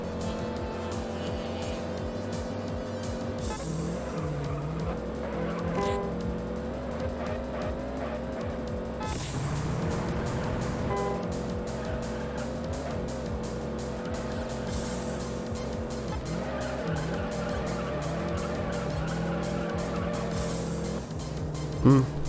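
A Fiat Punto races around a track in Juiced, its engine roaring loud and continuous while the tires squeal and skid through corners, with no voices over the racing.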